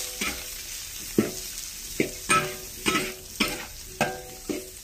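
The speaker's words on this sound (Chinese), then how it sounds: "炒一炒" Cured pork small intestine sizzles in a wok with rapeseed oil over low heat, with a spatula scraping and tossing in a steady rhythm of regular strokes about every half second, close and loud over a continuous frying crackle.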